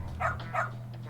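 A dog, Amasawa's puppy in the Lost Judgment video game, gives two quick, close yips about a third of a second apart over a steady low game hum.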